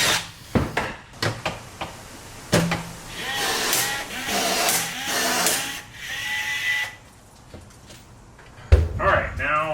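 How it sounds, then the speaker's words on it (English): Riveting trailer panels with a rivet tool produces sharp snaps and clunks mixed with whirring tool bursts and metallic rattles, close and fairly loud. "No, I'm gonna rivet it."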